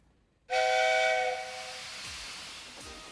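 A steam locomotive whistle blasts suddenly after a moment of quiet, loud and shrill, then fades into a lingering hiss of steam.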